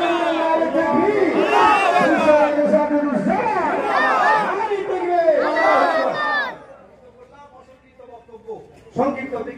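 Large crowd of young men at an Islamic religious gathering chanting takbir in unison in loud responsive shouts, then a short pause before another burst of voices begins.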